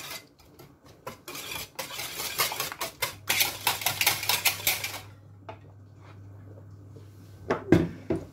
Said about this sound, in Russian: Взбиваем массу венчиком.